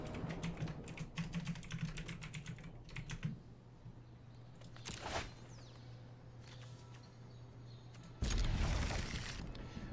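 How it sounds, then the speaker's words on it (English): Keyboard keys clatter in quick irregular bursts on a computer keyboard, close and fairly loud over a steady low hum, with a pause midway and a louder thump near the end. "Gotta do some typing here."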